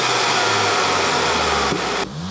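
A VW MK8 Golf R with an APR open air intake and Stage 1 Plus tune runs its engine in a loud, steady, close drone, with a short drop in level near the end.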